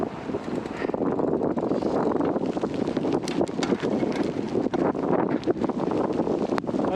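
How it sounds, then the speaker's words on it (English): Strong wind roars and buffets the microphone without letup on snowy fat bike trails during a blizzard, a dense, loud rush with gusty swells and no talking. "Unfortunately, with all this wind, we can't really pack down the trails."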